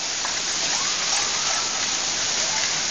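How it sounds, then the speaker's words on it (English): Steady rain pours after a hailstorm in Raleigh in May, a dense, even hiss of drops on surfaces, close and continuous with no voices. "Now it's going into rain."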